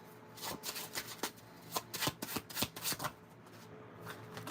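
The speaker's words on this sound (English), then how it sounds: "Let me give this a proper shuffle." Tarot cards are shuffled by hand in a quiet room, a quick burst of crisp riffling flutters and soft slaps that tails off, close and fairly faint, with no talking.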